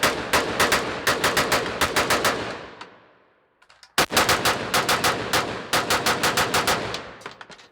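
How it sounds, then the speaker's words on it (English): An AR-style rifle fitted with a CMC trigger fires rapid strings of sharp, loud shots, two fast volleys separated by a brief lull with ringing decay, heard up close outdoors. "I'll show you shooting the mil spec trigger and this trigger"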